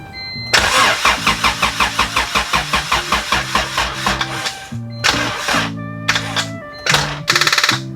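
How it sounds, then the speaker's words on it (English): A car engine cranks in rapid repeated pulses, catches after a few tries with a few bursts, then settles into a steady idle, loud and close. "we're gonna try starting the car, let it idle up"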